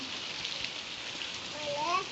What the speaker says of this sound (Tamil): பாருங்க எப்படி மழை பெய்யுதுன்னு